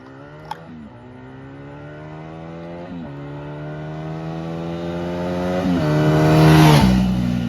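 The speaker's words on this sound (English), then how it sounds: "Oh, she's a backfiring queen." A Honda Magna VF700 motorcycle accelerates at full throttle through several gears, its engine whine climbing and dropping at each shift, with a sharp backfire pop early and loud, rising to a roaring peak near the end.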